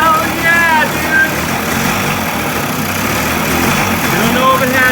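A 1980 Yamaha YT125 motorcycle fitted with a DT175 cylinder runs steadily close by, its loud engine drone continuing throughout while people talk over it.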